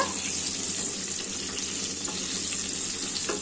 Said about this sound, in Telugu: ముందు నూనెలో గోలించుకోవాలి.